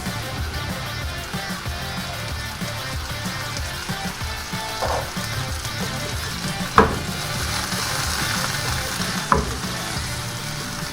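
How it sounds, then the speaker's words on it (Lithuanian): Button mushrooms frying in hot oil in a pan, a dense steady sizzle and crackle with a few sharp utensil clinks and stirring sounds, close and continuous without speech. "šampinionus kepam ant karšto aliejaus, tegul nepaleistų skysčių"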